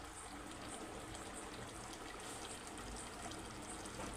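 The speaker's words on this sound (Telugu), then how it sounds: "ఈ రైస్ మొత్తం వాటర్ ఇలా తీసుకొని" Water drained from rice poured into a pot of chicken for biryani, a soft continuous trickling stream that is faint and steady throughout.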